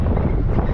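Wind buffets the microphone while riding an e-bike, a loud, low, rumbling whoosh that fills the short moment without speech.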